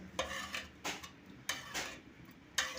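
A ladle whisks cooked dal and pumpkin together in a pressure cooker, making about five sharp scraping clinks at a loose, uneven rhythm, close by and alone.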